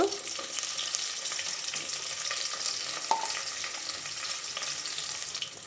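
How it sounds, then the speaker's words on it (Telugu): Sliced onions sizzling in hot oil with bay leaf, cloves and peppercorns for a pulao, a steady soft crackle with occasional stirring clicks. "ఆనియన్స్ని బాగా వేపుకుందాము ఆనియన్స్ బాగా వేపుకోండి"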